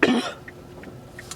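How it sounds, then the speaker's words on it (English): A single throat-clearing cough from a person with allergy irritation, close and loud at the very start, followed by a few faint clicks in quiet room tone. "I feel like I'm about to cough again."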